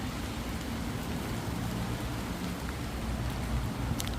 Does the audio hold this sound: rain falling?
yes